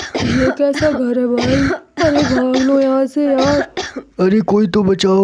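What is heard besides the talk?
cartoon thieves coughing from chilli smoke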